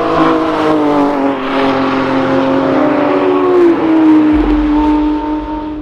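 Racing cars roar past on the Nürburgring circuit, engines whining and shifting pitch as they speed by, loud and continuous.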